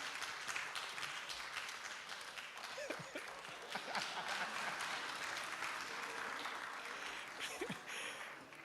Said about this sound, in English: he's applauding his co-authors